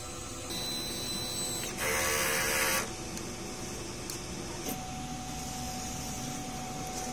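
A DTF printer's head cleaning cycle: a steady mechanical whir with a brief louder buzzing burst, followed by a faint higher hum continuing under the drone, close by.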